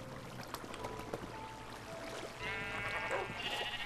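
Sheep in Minecraft bleat in a short burst of wavering calls near the end, over the game's steady ambient background, with no talking.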